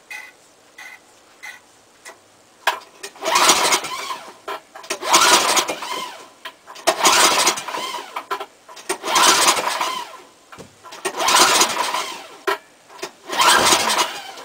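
A snowblower engine is cold-started in a snowstorm with repeated pull-cord cranks: five loud rasping bursts about two seconds apart, each dying away without the engine catching.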